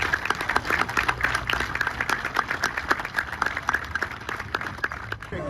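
Steady applause from a crowd at a groundbreaking ceremony for a musical road, many hands clapping continuously for several seconds before it begins to fade.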